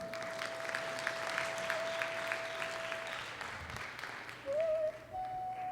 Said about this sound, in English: So I just want to give a huge round of applause to everybody.